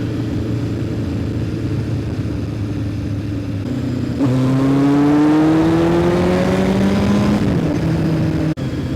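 A 1973 Honda motorcycle is ridden up close, its engine droning steadily, then revving up as the rider accelerates through the gears and the pitch climbs, then settles back down.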